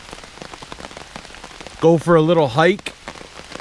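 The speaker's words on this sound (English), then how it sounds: "It's raining pretty bad actually." Heavy rain falling on a bushcraft campsite, a steady patter of drops on surfaces throughout, with a person speaking briefly partway through over the downpour.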